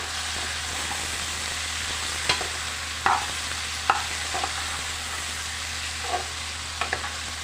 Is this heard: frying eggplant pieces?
yes